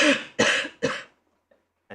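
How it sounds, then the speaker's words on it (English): Three harsh, forceful coughs in quick succession, close and loud, from a person getting over a bad cough in a quiet courtroom-like setting, followed by silence and a faint trailing breath. "I'm just getting over a bad cough"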